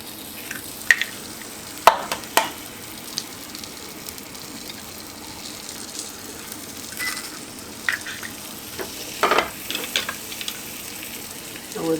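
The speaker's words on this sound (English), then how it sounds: "We're going to take 2 eggs and break right on the top." Eggs cracked over cooked-down spinach hiss and sizzle steadily in a hot pan, with a few sharp taps and clinks from utensils rising above the constant frying.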